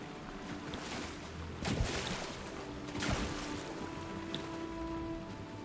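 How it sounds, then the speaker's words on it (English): Fountain water flowing in a PS4 video game, a steady broadband rushing wash with a couple of louder splashing surges, continuous and fairly close, with no voices over it. "The water flows once more."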